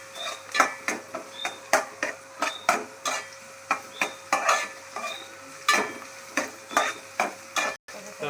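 Spoon stirring turmeric and green chilli into an okra dish frying in a pan: a steady run of close, scraping stir strokes at a regular rhythm over a soft, constant sizzle, with no voices.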